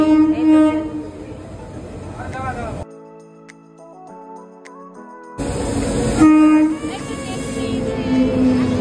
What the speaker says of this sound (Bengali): এই তো আমাদের ট্রেন হচ্ছে এখন রওনার উদ্দেশ্যে